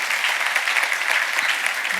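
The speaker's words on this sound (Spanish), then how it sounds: "Démosle un aplauso a ese Dios poderoso" A church congregation breaks into sustained applause, a dense, even roar of many hands clapping at once that holds steady from start to finish, with no voices over it.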